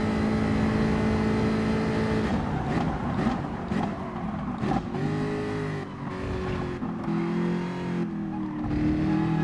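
Jaguar F-Type Group 4 race car engine in Gran Turismo Sport at Spa-Francorchamps, a steady loud drone that shifts pitch as the car revs through gears, with engine tone rising and falling continuously throughout.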